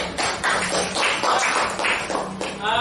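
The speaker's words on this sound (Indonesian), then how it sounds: "tepuk tangan dulu." Students in a school classroom clap their hands together in loud, close, rhythmic bursts with a little voice mixed in.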